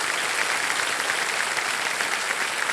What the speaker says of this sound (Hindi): सारे जोरदार तालियां बज जाए